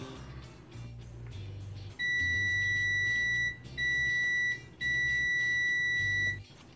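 A RichMeters 900A budget multimeter in continuity mode gives three long, loud, piercing beeps, each held over a second with short gaps, over a low background hum.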